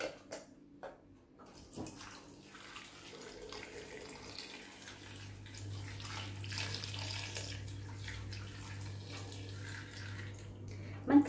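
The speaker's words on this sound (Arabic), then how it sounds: "البطاطا في الكوكوت ونديروا لها الماء" Tap water runs into a cooking pot of potatoes as a soft, steady gush that grows fuller partway through, with faint clinks at the start and end.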